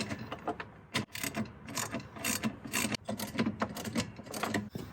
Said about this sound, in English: ratcheting 1/2 inch